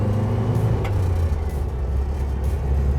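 A 1966 Volkswagen split window bus driving in second gear, its engine a steady low drone with road rumble, heard from inside without talk.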